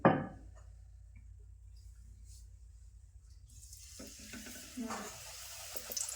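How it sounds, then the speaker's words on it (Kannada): A puri deep-frying in hot oil as more oil is spooned over it. A sharp splash opens, then a near-silent stretch, then a soft hissing sizzle builds and continues to the end. "ಈ ಮ್ಯಾಲೆ ಬಿಸಿ ಎಣ್ಣೆ ಹಿಂಗೆ ಹಾಕಿಬಿಡ್ರಿ ಪೂರಿ ನೋಡಿರಿ ಏನು ಚಂದ ಉಬ್ಬ್ಯದತ್ತ ಹೇಳ್ರಿ"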